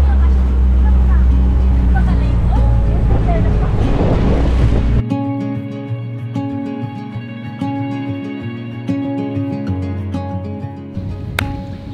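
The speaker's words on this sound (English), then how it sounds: "Then we have to take this boat to the resort" Boat motor on the water near the Anilao dive area in Batangas: a loud, low engine roar for about five seconds gives way to music.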